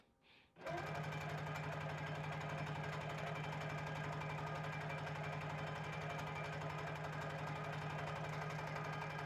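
A sewing machine runs loud and steady at close range, stitching dense graffiti quilting back and forth over the same line, its motor whirring with a fast rhythmic needle chatter after a brief quiet start.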